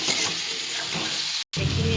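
Pointed gourd cooks with turmeric in a pan, a loud close sizzle with scraping stir strokes, broken by a brief cut to silence before the frying resumes.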